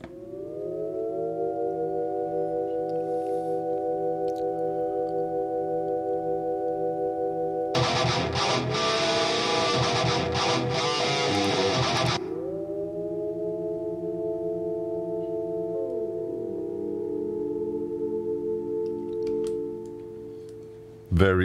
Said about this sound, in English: And the pad sound like this.